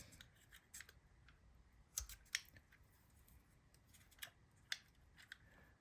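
Scissors snip a piece of material to size over a bottle cap, a series of sharp, quiet cuts at irregular intervals with light handling rustle between them.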